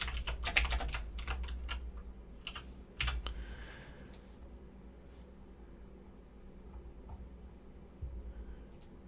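Keys clatter on a computer keyboard as a quiz name is typed, a quick burst of clicks at the start, then scattered lighter taps, close and fairly quiet with no talking.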